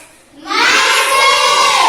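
Classroom of students breaking into loud, sustained applause and cheering after a short quiet lead-in, dense clapping with children's voices shouting over it.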